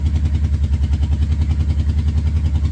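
Close, loud idle of a 1989 Yamaha VMAX motorcycle engine warming up, a steady pulsing throb with a fast even rhythm and some mechanical clatter, no voices.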